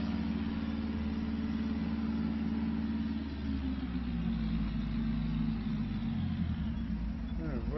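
A tractor engine running in Farming Simulator 25, a steady mid-pitched diesel drone that stays constant under someone talking, with a brief rising whine near the end.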